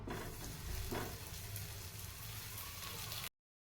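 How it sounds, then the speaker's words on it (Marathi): Onion paratha frying in hot oil in a pan, giving a steady close sizzle with a soft crackle that runs unbroken for about three seconds before cutting off. "तेल छान गरम झालं आहे आता यामध्ये टाकूयात आपण पराठा"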